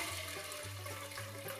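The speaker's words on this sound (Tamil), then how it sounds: "இப்ப இது வேகறதுக்கு தேவையான அளவு தண்ணி ஊத்திக்கலாம்" Water pours into a pressure cooker holding washed pulses, a steady, close rushing gush that runs for under two seconds.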